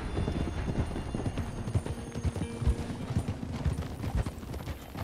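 Horse hooves clip-clop on soil and rocks in Red Dead Redemption 2, a steady, fairly close rhythm of hoofbeats with a faint whinny and background game ambience.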